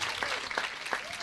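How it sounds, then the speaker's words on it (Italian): Theatre audience applauding at the opening of a Miss Vesuvio beauty pageant final, a steady broad wash of clapping heard briefly and fairly faint, with a voice speaking over it. "fatevi inquadrare mentre fate questo applauso meraviglioso di apertura della nostra finale"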